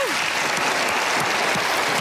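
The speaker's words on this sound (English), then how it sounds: "Give her a round of applause." A stage-show audience applauds a magician in a full, continuous burst of clapping that stays even and close for the whole stretch.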